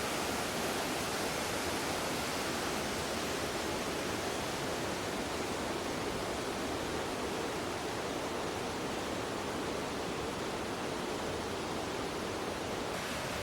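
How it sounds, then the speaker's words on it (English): Cauldron Snout, a waterfall whose flow is artificially controlled below a man-made barrier, roars as a steady, loud broadband rush of falling water without pause or voices. "Cauldron Snout is still a magnificent waterfall, despite the water being controlled artificially."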